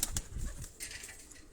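A released pigeon takes off, its wings flapping in a few quick, soft bursts up close, followed by fainter fluttering as it moves away, with no voices.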